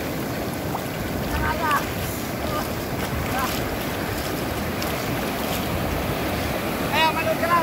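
Strong waves surge and wash up a beach in Brunei with a steady roar, wind buffeting the microphone throughout, and a few faint voices calling in the background.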